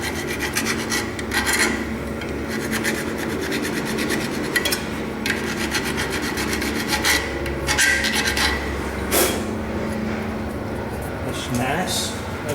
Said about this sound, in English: Just tidy it up a little bit with the file.